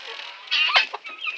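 Hens cluck and squawk at a backyard chicken coop, a few close, sharp bursts standing out over a steady quieter clucking in the background.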